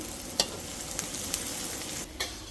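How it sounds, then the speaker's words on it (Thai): Pounded garlic and coriander root dry-fry with shallots in a hot pan, giving a steady close sizzle broken by a few light clicks of stirring. "นำกระเทียมกับ รากผักชีที่เราตำไว้ ลงไปคั่วด้วยนะคะเพื่อความหอม"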